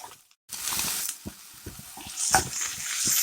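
Food fries in a pan in a home kitchen, giving a close, hissing sizzle with scattered small pops and crackles that swell toward the end.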